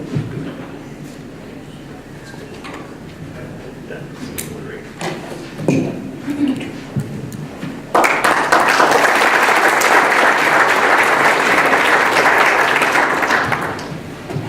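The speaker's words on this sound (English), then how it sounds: "thanks for your warm round of applause" Audience applause after a talk at a policy discussion event, rising suddenly and continuing as steady broadband clapping for several seconds before tapering, preceded by quieter room sounds and a few taps.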